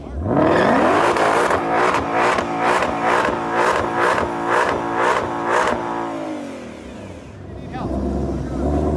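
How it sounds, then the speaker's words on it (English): A Ford Shelby GT500 doing a burnout at a drag strip, its engine pulsing in rapid repeated revs before easing off, loud and near, with a voice talking over it. "So the first thing he's going to do is a burnout, and basically that gets the tires hot so they stick to the track."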